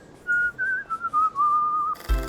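A person whistles a bird-like tune, one long wavering note sliding up and down for about two seconds, then a short thump at the end.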